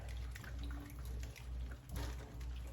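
Tap water runs into a sink to soak fresh garden green beans, a quiet, uneven splashing stream with low rumbling beneath and faint clatter.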